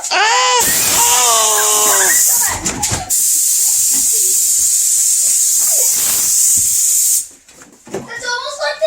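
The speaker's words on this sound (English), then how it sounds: "what's an air compressor do? Oh, it shoots air everywhere!" An air compressor blows air in long, loud, continuous hissing blasts with short breaks between them, while excited voices shout and talk before and after the blasts.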